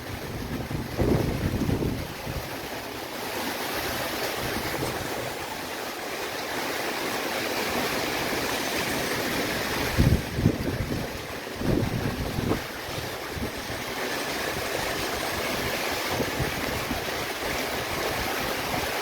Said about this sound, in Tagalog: bumabayo na naman ang hangin